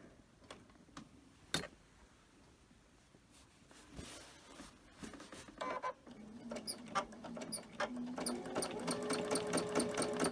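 Sewing machine doing free-motion quilting on fabric for a bag: scattered ticks and clicks, then a fast, rhythmic needle chatter that builds and grows steadily louder, with no talk.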